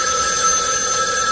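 A telephone rings steadily and loudly in an animated 1993 series, its bright electronic trill running alone through the whole short stretch.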